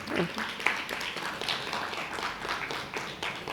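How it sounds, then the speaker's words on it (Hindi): An audience at a spiritual satsang gathering claps in a dense, even patter, moderately distant and fairly soft, with a faint voice beneath. "ताली नहीं बजाएंगे?"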